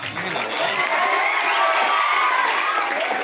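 Crowd applause and cheering at an outdoor public ceremony for a former chief minister's birth anniversary, a steady dense wash of clapping and voices that holds without a break for a few seconds.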